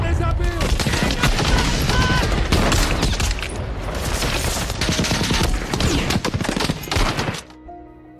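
A war film beach battle with heavy, continuous gunfire: rapid machine-gun bursts and overlapping rifle shots fill the scene loudly until they suddenly cut off near the end.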